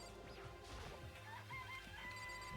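Chickens cluck and squawk repeatedly in the video game Danganronpa: Trigger Happy Havoc, their clucks falling in quick bursts over a busy game soundtrack.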